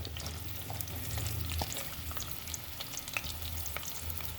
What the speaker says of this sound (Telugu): ఇప్పుడు నేను కాకరకాయ ఫ్రై చేసుకుంటానండి.